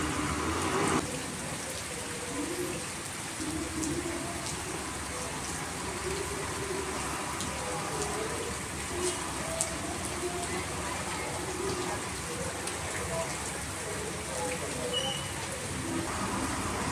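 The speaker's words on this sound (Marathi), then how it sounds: "लोक पावसामध्ये पूर्ण भिजतायत नुसतं ओंकार हत्तीला पाहण्यासाठी." Steady rain pours down outdoors on a large crowd of villagers waiting to see an elephant, a dense continuous hiss throughout with a faint murmur of voices beneath.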